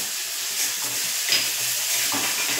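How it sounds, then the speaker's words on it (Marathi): Ground spice paste (vaatan) sizzling and being stirred in a pan with curry leaves before turmeric powder goes in, for a Maharashtrian red pumpkin bhaji; a steady close frying hiss with soft stirring scrapes throughout, no voices. "त्यानंतर टाकूया हे वाटण। याला छान परतून घेऊया आणि यामध्ये टाकूया हळद पावडर।"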